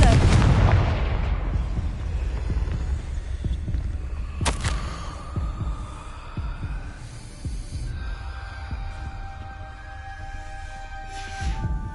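A Confringo fire spell bursts with a sharp blast near the start of a Hogwarts Legacy fight, followed by a rumbling low boom, a second crack midway, and lingering hum and tonal game effects.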